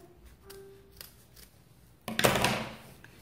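Scissors snip through the excess fabric of a handmade bag, with a quiet tonal squeak and light handling, then one loud, crisp close cut that rings briefly before fading.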